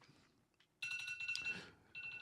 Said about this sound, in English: My alarm going